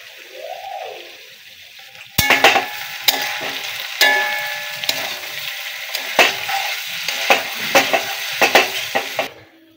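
Roasted spice mix is stirred into a cooking potato curry, with a spoon scraping and clacking against the pan in repeated strokes over a soft sizzle.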